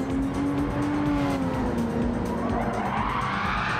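A race car slides and skids through a corner in a touring car racing video game at Bathurst, a loud sustained tire squeal with a falling then rising pitch over steady engine roar.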